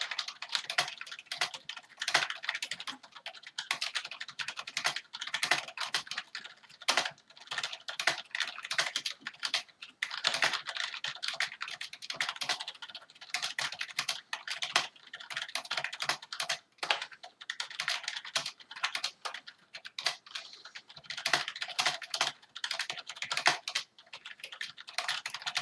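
Rapid, steady keystrokes rattle on a Rii RK900 gaming keyboard, a dense close-up clatter of clicking keys with brief pauses, loud and alone with no voices.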